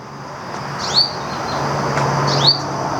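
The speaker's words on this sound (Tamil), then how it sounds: "அதை பாருங்கள், ஒரு தேன் சிட்டு கத்துறதை பாருங்கள்." Two bright, rising sunbird chirps sound about a second and a half apart, close and clear, over a steady hum of distant road traffic near Khor Fakkan.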